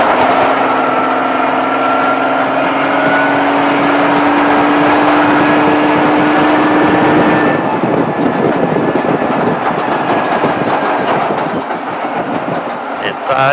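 A car engine roars loudly and steadily on throttle around a cone course at Speed Vegas, its pitch climbing and then roughening as the load shifts, heard close from inside the cabin.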